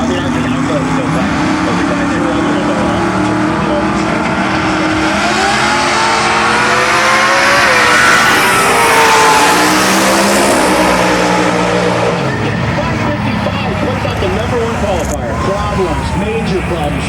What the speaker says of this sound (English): he is racing the number 1 qualifier, GJ, who has a Noonan Billet LSX-powered Fox body featuring twin 88mm journal bearing turbos